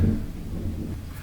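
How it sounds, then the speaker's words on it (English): Deep, low rumbling thunder rolls steadily through heavy pouring rain outdoors, a sustained grumble with no voices. "You can hear that, that's thunder."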